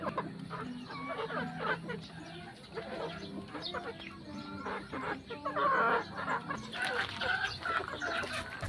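Repeated hen clucks close by at a gamefowl farm during feeding time, with other farmyard fowl sounds and rustling steady throughout.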